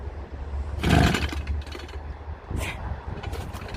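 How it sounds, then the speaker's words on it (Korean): Brush cutter engine that will not start after refuelling with gasoline, heard as a loud pull-cord rattle followed by a few weaker cranking attempts, close by, with no engine catching. "자, 악셀을 다 올려주고 과연 시동 걸릴까?"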